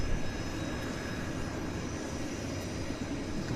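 A WestJet Boeing 737 airliner glides in to land on runway 26 right at Vancouver Airport, a steady, broad engine roar with a low rumble that holds even throughout, with no talk over it.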